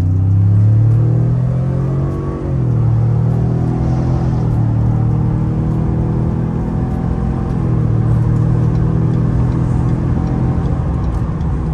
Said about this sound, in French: on va pouvoir faire un petit départ arrêté